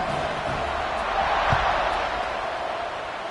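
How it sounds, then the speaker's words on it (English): A stadium crowd in the College Football 26 video game buzzes after a score, a steady broad roar that swells slightly midway, with a faint thud near the middle and no clear speech. "this crowd is buzzing after that last score"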